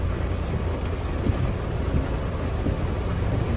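Steady outdoor rain falling on a market street during monsoon flooding, a continuous dense hiss with low rumbling, likely passing traffic, and no clear talk.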